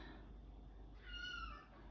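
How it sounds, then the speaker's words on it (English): A cat gives a single faint meow over steady low background hum, fairly distant and brief, with no talking. "Oh, and that's the cat."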